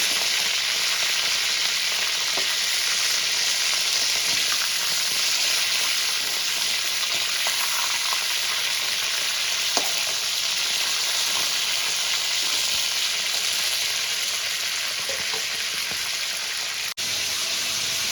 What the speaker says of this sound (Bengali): চিকেন আমি ভেজে তুলে নিয়েছি, আবার বাকি চিকেনটাও আমি এইভাবেই ভেজে নেব।